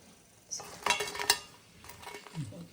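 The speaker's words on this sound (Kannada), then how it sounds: "ಈ ತರ ಉಬ್ಬಬೇಕು ಮೆಣಸು ಎಣ್ಣೆಯಲ್ಲಿ." Chillies frying in oil for a village-style tamarind pickle, a soft sizzle under a few metal scrapes and clinks as they are stirred and lifted out, fairly quiet and close.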